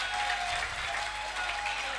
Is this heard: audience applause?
yes